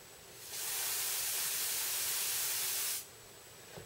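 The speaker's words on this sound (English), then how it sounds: "Now if I press the air button and screw this in, you'll hear when the air starts to come through." Compressed air hisses steadily through an airbrush fed from a canister once it is screwed in, a loud, broad rush lasting a few seconds before cutting off, then a faint click.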